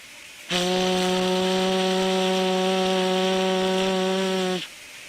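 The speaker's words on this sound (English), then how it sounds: "Sounding of a whistle from a steam locomotive." Whistle of a WP class steam locomotive on Indian Railways, a single sustained steady blast of about four seconds with a rich harmonic tone, loud and clear, starting and stopping abruptly.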